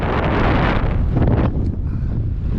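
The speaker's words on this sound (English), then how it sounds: "You probably can't hear me because it's such a wind" Strong wind buffets an outdoor microphone on a Highland circular walk around Loch an Eoin, a loud, continuous roaring rumble with gusty surges that fills the whole stretch.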